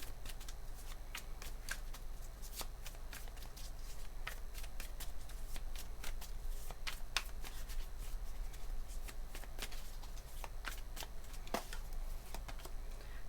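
Tarot cards are shuffled by hand in steady, rapid riffling flicks that carry on continuously at close range over a quiet background, with no talking.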